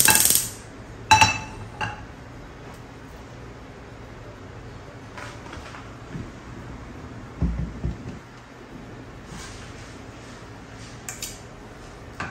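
A frying pan pulled out in a kitchen, with a few sharp metallic clinks of pans and lids at the start, then scattered softer knocks and clatters over low background hiss.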